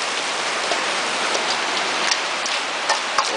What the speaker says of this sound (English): downpouring.